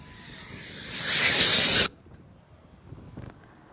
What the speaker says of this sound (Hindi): विमानों की गर्जना जो है वो साफ तौर पर आसमान में सुनाई दे रही है